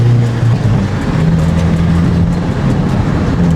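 A Hyundai Elantra N with its resonator removed drives along, its exhaust giving a loud, raspy, steady drone with a low engine hum in the cabin and no talking.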